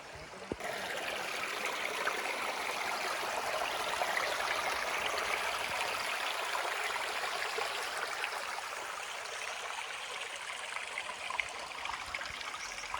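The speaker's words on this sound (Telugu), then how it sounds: "ఇక్కడ మినీ వాటర్ ఫాల్ వెళ్తా అండి" A small waterfall stream near Kukke Subramanya temple rushes and splashes in a steady, dense flow, close and continuous for the whole stretch with no voices.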